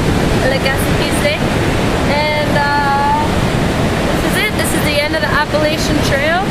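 Surf breaking on the rocky shore of the Gaspé at the end of the Appalachian Trail, a loud steady wash of waves filling the whole clip, with birds chirping and people talking over it.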